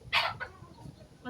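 Chickens clucking nearby in a rainy yard, a short sharp squawk followed by a couple of softer clucks, fairly faint.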